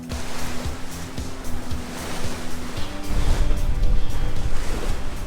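Rough, confused open-ocean seas wash and crash steadily around a sailboat under sail, with a low hum underneath and the surge growing heavier toward the end; no one speaks.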